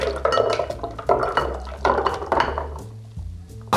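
Strawberry cocktail free-poured into a rocks glass, a steady liquid pour with clinks of glass and ice running throughout, close and moderately loud, with no talk.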